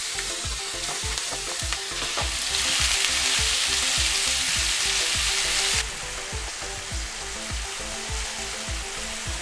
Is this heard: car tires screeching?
no